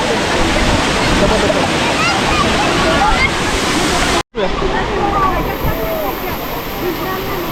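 Kondi Waterfall near Alibaug pours in a loud, dense, continuous roar, with a brief dropout midway, while voices talk faintly beneath the rush.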